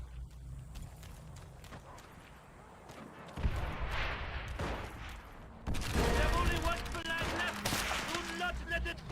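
Gunfire in the World War II shooter Call of Duty: World at War multiplayer, scattered shots and crackling volleys at varying distance that grow louder and denser toward the end, with a voice talking over them.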